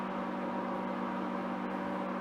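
A weak microwave oven heats a bowl of soup, giving off a steady, even electrical hum and fan whir that stays constant throughout, close by and alone.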